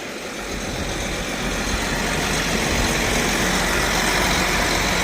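A farm tractor's engine idles nearby in a cornfield during anhydrous application, a loud, constant rumble with a broad hiss that holds steady throughout.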